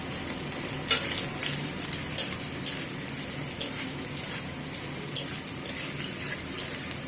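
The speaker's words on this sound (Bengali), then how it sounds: "তেলটা আমার গরম হয়ে গেছে, এখানে আমি এই নারকেল কুচানোটা দিয়ে দেব।" Chopped coconut sizzles and crackles steadily in hot oil in a pan, a close, continuous frying hiss with occasional louder pops and stirring clinks throughout.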